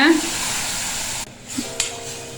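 Chettinad-style kanakambaram chutney paste hits hot oil with mustard seeds and curry leaves, giving a steady, close broadband sizzle for just over a second that then drops to a quieter hiss with a couple of brief clinks.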